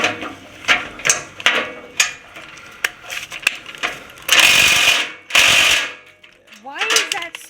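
Power ratchet on an extension straining against the skid plate bolts of a 2016 Toyota Tundra during an oil change: a series of short, harsh mechanical rattling bursts, then two longer loud grinding stretches, with a brief voice at the end.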